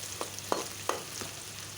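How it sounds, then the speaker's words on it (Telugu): Sliced onions fry in hot oil in a kadai, a soft steady sizzle with about four scraping stirs of a spoon spaced at regular intervals, heard close and fairly quiet with no voices. "ఉల్లిపాయలు వేసుకున్నాం, నూనె వేడి అయింది. ఉల్లిపాయలు వేసుకున్నాం, కలుపుకున్నాము."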